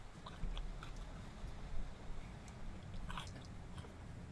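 Crunchy chewing of food such as lettuce during a mukbang, with close, repeated bites and crunches in an uneven rhythm over a soft background of rain.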